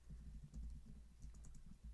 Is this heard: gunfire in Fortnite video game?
no